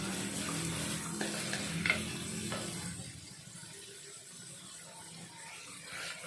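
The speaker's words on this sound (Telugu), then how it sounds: "కొంచెం బాగా రెడ్గా వేగే వరకు పెట్టుకోవాలి." Spices fry in a pan for a vegetable biryani, with a crackling sizzle and a few sharp stirring clicks in the first seconds, then the sound settles into a quieter, softer hiss.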